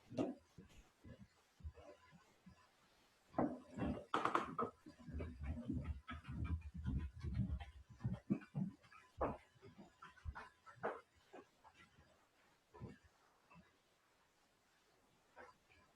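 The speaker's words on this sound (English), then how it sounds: "My dog in the background." A pet dog pants and whimpers in the background during a home yoga class, with soft irregular breathy huffs, whines and small movement noises, mostly quiet, plus occasional louder bursts.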